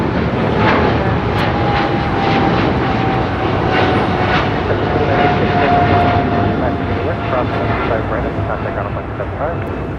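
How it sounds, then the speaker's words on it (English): A Boeing 777 freighter jet taking off at LAX, a steady loud engine roar filling the whole stretch with a faint whine running through it, while a voice talks over the top. "This is Aerologic 473 taking off to Frankfurt on a 777 freighter."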